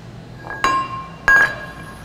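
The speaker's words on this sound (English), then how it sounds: "So we got to bend our tubing in the bender." Metal tubing for an upper control arm is set into a tube bender, giving two sharp ringing clinks about half a second apart, each fading quickly in a quiet shop.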